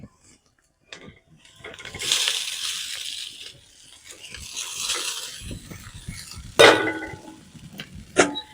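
Chow mein noodles tip onto fried vegetables in a pan, followed by stirring and tossing with bursts of sizzling, scraping utensil strokes and sharp clatters of metal against the pan, loud and close.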